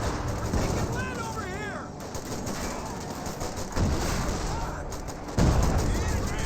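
Scattered gunfire and heavy thuds from a Company of Heroes 2 battle involving a Panzer IV, tanks and riflemen, with a few sharper blasts over steady battle noise and a voice talking throughout.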